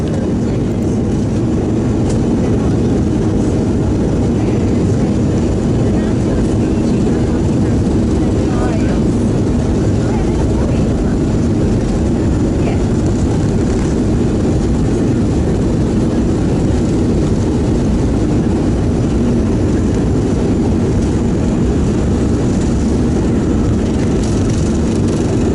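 Cayman Airways airliner taxiing down runway 08 at Grand Cayman before takeoff, heard from inside the cabin as a steady loud engine drone and rumble throughout, with muffled voices underneath.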